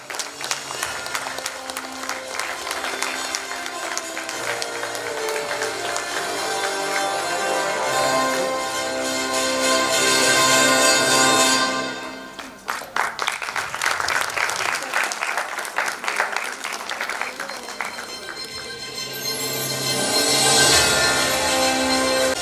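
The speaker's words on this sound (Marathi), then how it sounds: "एकदा जोरदार टाळ्या झाल्या पाहिजे" An audience at the I Inspire Awards 2023 ceremony applauds a prize winner with sustained loud clapping. It dips briefly midway, then swells again, and voices can be heard faintly beneath it.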